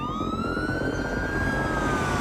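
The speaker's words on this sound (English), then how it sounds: "There must have been 20 police cars with their sirens going." Police car sirens wail steadily and loudly, one long rising tone sustained over a dense, rumbling bed of traffic and engine noise, with no voices.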